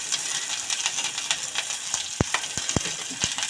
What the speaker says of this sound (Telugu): మొత్తం మనం ఫ్రై చేసేసి ఇంకా కాస్తంత హింగు అయితే వేసుకుందాం